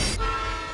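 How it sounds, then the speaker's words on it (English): A train horn blares loudly and is quickly cut off, leaving the low, rumbling drone of the train passing close by, from the video game Life is Strange. "Oh crap, train."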